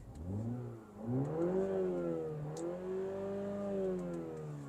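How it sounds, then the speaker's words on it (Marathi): A 2024 MINI Cooper S starts at the push of a button, its engine catching and rising into a steady, fairly loud idle with a smooth mid-range drone that holds close by throughout. "इथे ना बटन देण्यात आले सो हे तुम्हाला प्रेस करायचं आहे सो अशा प्रकारे गाडी स्टार्ट होते"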